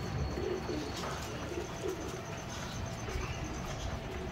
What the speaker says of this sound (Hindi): ये बाकी हमारे जाल वाले कबूतर हैं